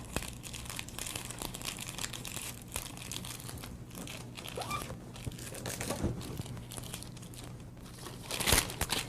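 Gift wrapping paper is folded back and forth like a fan, giving close, quiet crinkling and crumpling rustles in an uneven rhythm with no talking.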